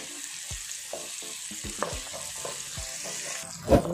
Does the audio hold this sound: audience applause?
no